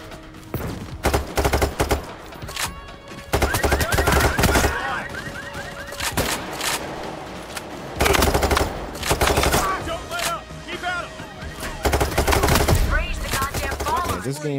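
Sniper and automatic gunfire in Payday 3 during a heist shootout, repeated loud bursts of shots in clusters with brief lulls, dense and close, mixed with other game noise.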